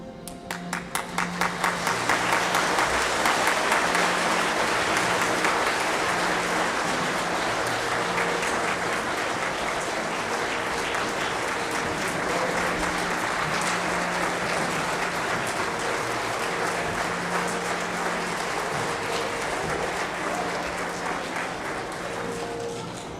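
Sustained audience applause at a Veterans Day program honoring veterans, a dense, loud wash of many hands clapping that builds quickly and holds steady for over twenty seconds before easing slightly.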